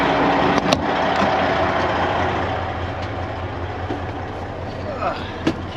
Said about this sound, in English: the truck is running right now, warming up